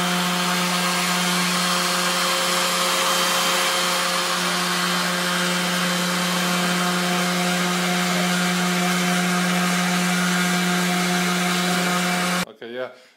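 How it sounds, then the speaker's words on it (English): A random orbital sander works on wood with a loud, steady motor whine and broadband grinding hiss that runs unbroken for about twelve seconds before cutting off abruptly. "And a random orbital sander."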